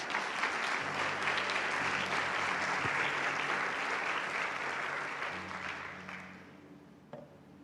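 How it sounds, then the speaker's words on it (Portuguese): A church congregation applauds together in sustained, dense clapping that holds steady for several seconds, then thins and tapers off toward the end, with faint low tones underneath. "aplauda ao Senhor Jesus novamente"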